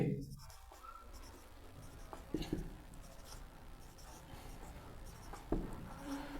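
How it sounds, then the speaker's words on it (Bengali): Handwriting an example sentence, the pen or chalk scratching softly and intermittently, with small taps, in a quiet room. "তাহলে উদাহরণ লিখব"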